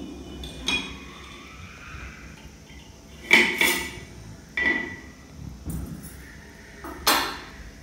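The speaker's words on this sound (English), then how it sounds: "Now what I'm going to do is put some stones inside this." Stones dropped one at a time with tongs into water in a glass jar, giving three or four sharp clinks and splashes spaced about a second apart over a low background hum.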